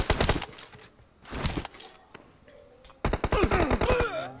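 Gunfire in PUBG Mobile, with rapid automatic bursts in a few clusters, the densest and loudest burst at the end, and brief game sounds between the bursts.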